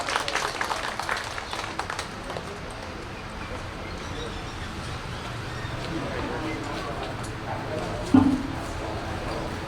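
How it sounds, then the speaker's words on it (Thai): An audience at an exhibition opening ceremony in Ubon Ratchathani, Thailand, applauds to welcome honoured guests. The clapping is a steady, moderately distant wash that continues throughout, with an announcer talking over a PA system. "ขอเสียงปรบมือต้อนรับแขกผู้มีเกียรติทุกท่าน"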